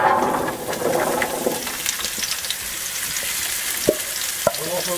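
Root vegetables fry in hot oil in a pan on a gas grill, giving a loud, steady hiss that eases slightly after the first second, with a couple of small clicks near the end.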